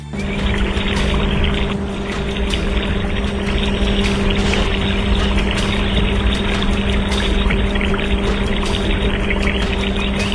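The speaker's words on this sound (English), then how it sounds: "It has to be poured perfectly to support the weight." Animated concrete pour for a giant river bridge build, a steady, loud continuous rushing pour with a constant low mechanical hum underneath, running unbroken throughout.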